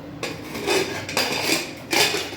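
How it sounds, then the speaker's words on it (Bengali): A metal pressure cooker lid being fitted and locked shut, three loud clanking scrapes of metal on metal close up, each separated by a brief pause, with no talking. "এবার তুমি প্রেসারে ঢাকনাটা আটকিয়ে দাও"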